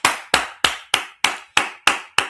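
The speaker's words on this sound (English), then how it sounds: "clap your hands" Eight sharp, evenly spaced hand claps ring out one after another at a steady brisk pace, each crisp and close with a quick decay and nothing else between them.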